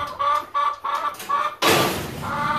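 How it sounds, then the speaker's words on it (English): Chickens cluck in quick, repeated bursts close by, then a gust of rough noise sweeps in before the clucking resumes. "Shut up, chickens."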